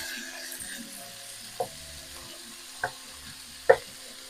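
Cut pieces of lean lamb brown in a frying pan, giving a low steady sizzle with three sharp utensil knocks spaced a second or so apart, the last one loudest, and nobody speaking.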